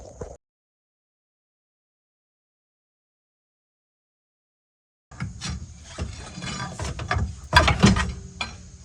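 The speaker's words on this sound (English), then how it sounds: "There's an 11mm socket to remove those." An 11mm socket on a ratchet works the drive shaft bolts on a GMC Sierra, giving close clicking and metallic rattling after a long silent gap, with no talk over it.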